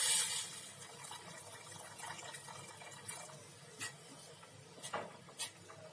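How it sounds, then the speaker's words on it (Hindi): Water mixed with gram flour is poured into a cooking pot for jackfruit kofta curry, a steady watery splash with a few sharper clinks and bubbles near the end. "ये पानी डाल रहे हैं अब हम, जो बेसन वाला मैंने आपको दिखाया था।"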